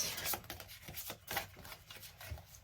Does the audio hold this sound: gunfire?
no